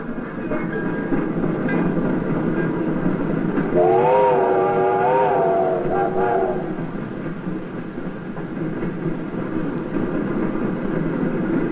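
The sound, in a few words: train arriving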